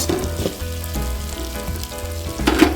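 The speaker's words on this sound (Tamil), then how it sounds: "மிளகா போட்டு கொஞ்சம் வதங்கிடுச்சு" Green chillies sauté in oil in a pan while Bombay chutney is being made. The sizzle is steady and continuous, with a few soft stirring scrapes, and no voices are heard.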